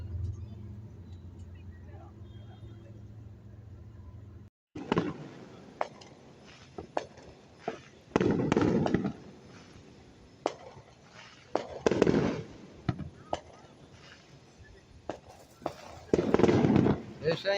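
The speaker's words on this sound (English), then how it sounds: "That's somebody else's neighborhood fireworks." Distant fireworks popping and crackling in scattered bursts, some louder booms among them, with people talking now and then in the background.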